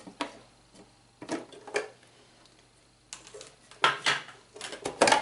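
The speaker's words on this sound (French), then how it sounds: "à l'aide d'une mandoline, on va venir faire des lamelles" Apple slices being cut thin on a mandoline for an invisible apple cake: a series of crisp, scraping swipes in bursts with short pauses, close and moderately loud.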